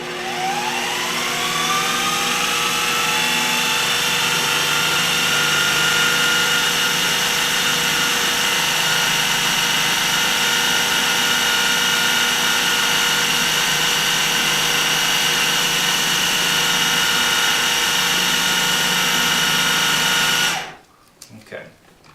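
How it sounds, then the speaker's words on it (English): A food processor blends carob ball ingredients into a fine mixture, a loud, steady motor whir with a slight rise in pitch at the start, running continuously before stopping abruptly near the end. "in order to get the processor to work it all together to a fine consistency"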